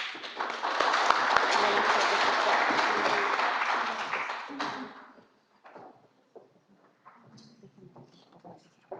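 An audience at a keynote lecture on women's sexual and reproductive rights gives a strong, dense round of applause for about five seconds; it then stops abruptly and a speaker's voice follows.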